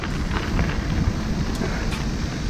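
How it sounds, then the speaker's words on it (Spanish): Steady rain pours over a large outdoor parking lot as a dense, loud, broadband wash with no pauses, and no one speaks. "Qué asco de lluvia."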